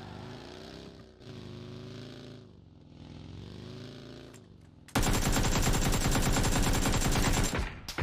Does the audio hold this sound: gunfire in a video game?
yes